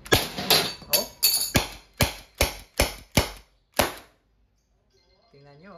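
Umarex TR50 .50 caliber CO2-powered airgun revolver firing, about ten sharp close cracks in quick irregular succession, then near silence and a brief faint voice at the end.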